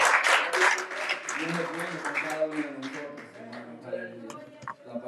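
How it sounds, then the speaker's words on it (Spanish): Applause from a Spanish-speaking church congregation in Brooklyn, fairly loud at first and then easing off, with a voice talking over it. "¿Cuántos tienen palmas para nuestro Señor?"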